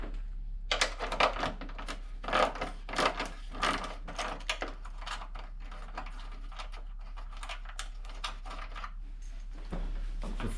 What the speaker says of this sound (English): Now we're going to remove the last bolt on the corner.